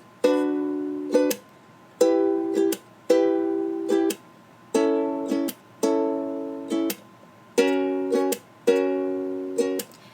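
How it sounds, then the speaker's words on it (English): Ukulele strumming pattern of a plucked chord across all strings, an upstroke and a percussive slap, repeated in steady bars for about ten seconds, close and clear with no voice. "So you're going to pluck all strings, strum up, slap, like that."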